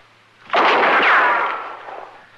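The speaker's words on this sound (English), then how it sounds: "She's aiming that rifle at me, Chester." A rifle shot sound effect in an old Western radio drama, a single loud sudden blast that rolls into a long decaying rumble, heard alone without voices.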